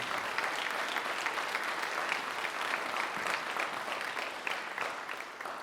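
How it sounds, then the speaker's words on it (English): A concert audience applauds for students selected for an honor ensemble. The dense, steady clapping from many hands holds at an even level the whole time, without a break. "Let's give them a nice round of applause for being selected to that"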